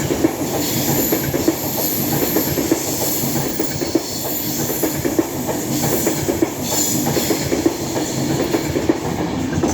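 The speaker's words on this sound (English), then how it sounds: "The next train to come through will be an Avanti West Coast Class 390" An Avanti West Coast Class 390 electric train runs from London Euston to Manchester Piccadilly through Cheadle Hulme on the West Coast Main Line, passing close and loud with continuous rhythmic wheel clatter over rail joints and a rushing hiss.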